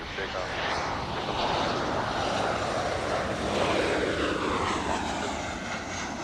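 Passenger airliner taking off at LAX airport, a continuous broad engine roar that swells and holds steady throughout, heard from a spotting position.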